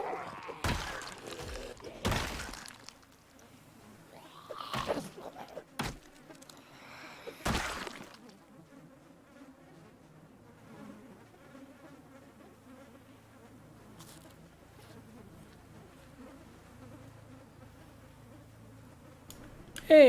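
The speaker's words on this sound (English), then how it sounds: "the bees seem to much more appreciate the wildflowers than they did" Bees buzz around garden wildflowers in a zombie-survival game: a steady, faint, low drone that runs through most of the stretch, with a few heavy thumps and knocks near the start.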